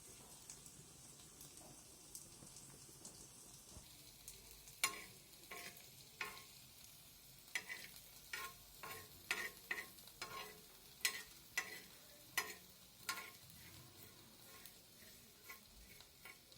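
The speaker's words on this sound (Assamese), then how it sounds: "প্ৰথমে মই জিৰা আৰু ধনিয়াখিনি গৰম কৰি ল'ম অলপ।" Cumin and coriander seeds dry-roast in a pan, stirred with a spoon that scrapes and rattles in quick, irregular clicks over a faint, soft background.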